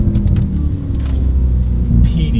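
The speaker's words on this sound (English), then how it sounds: "Sometimes it's just nice to hit the rev limiter" A 2026 Porsche Panamera Turbo S engine, heard as a loud, close, deep rumble with brief rougher bursts over the roar and no talking.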